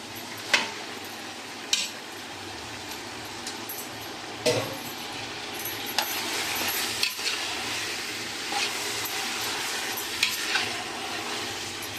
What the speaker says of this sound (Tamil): இஞ்சி பூண்டு பேஸ்ட்டு கொஞ்சம் பச்சை வாடை போகிற வரைக்கும் கலரி கொடுத்துக்கணும்